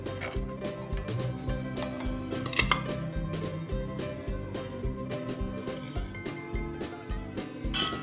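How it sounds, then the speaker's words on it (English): Knife slicing through rosemary rum raisin soda bread with pecans inside a cast iron pot, giving a run of scraping and clinking metal strokes against the iron, fairly close and steady, with no talking. "We cut the bread inside of the pot directly because this cast iron is very durable"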